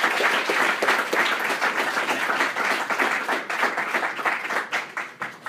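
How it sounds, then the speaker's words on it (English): An indoor audience at a university event applauds steadily, with dense sustained clapping from a large crowd continuing throughout without a break. "So if we can give him another round of applause,"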